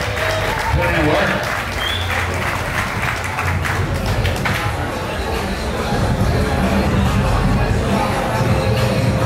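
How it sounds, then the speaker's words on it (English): An audience at a roller skating event applauds, with dense sustained clapping mixed with crowd noise and some shouting, loud and close throughout. "Give these guys a round of applause, man."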